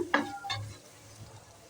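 Spices for beef curry being stirred and fried in a pan, with a couple of sharp scraping strokes up front and then a low sizzle close by.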